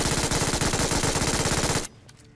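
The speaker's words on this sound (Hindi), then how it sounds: "देखो ये फायरिंग मैंने करी थी और M4 उसने चलाई" An M4 rifle fires in a video game, a rapid, evenly paced automatic burst, loud and close, that cuts off abruptly near the end, leaving faint background sound.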